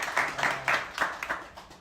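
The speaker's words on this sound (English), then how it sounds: "So can we clap our hands for him?" Audience clapping at a book launch, a scattered series of claps in rough rhythm, moderately near and fairly quiet, lasting under two seconds.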